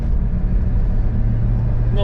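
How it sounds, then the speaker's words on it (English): A manual car fitted with a twin disc clutch pulls away with a steady engine drone while shifting from second to third in merging traffic, someone talking over the continuous engine noise. "the traffic is speeding up again because we merged, and going through the gears, second to third"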